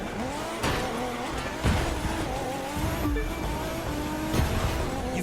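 A Nissan GT-R races in The Crew 2, with a loud engine note climbing and shifting gears, sharp gearchange bursts and brief tire squeals, close and steady throughout, with no talk.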